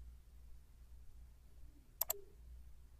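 A computer mouse gives two quick clicks in close succession, faint and near, over a quiet room hum with no talking, while an SSL certificate is installed on Microsoft Server 2008's IIS.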